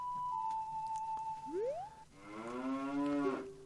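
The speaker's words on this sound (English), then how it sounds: "there's also a cow" Cow in Zelda Master Quest giving a long, close, drawn-out moo that slides upward and then settles into a rich, wavering low call, clear over quiet game tones.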